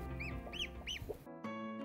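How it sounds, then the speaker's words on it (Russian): A broody hen in a farmyard clucks and croons in a quick series of close, rising calls, about three distinct notes followed by a lower murmur, with no talking. "Вот курица-наседка."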